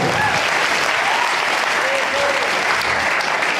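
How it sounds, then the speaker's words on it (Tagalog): Steady, dense applause from a large audience at a church worship session fills the whole stretch, loud and continuous with no breaks. "Isang malakas na palakpak para sa Diyos na buhay."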